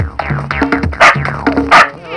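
A dog barks in a quick series of sharp, loud yips and bow-wows close by, with short gaps between bursts and no talk over it.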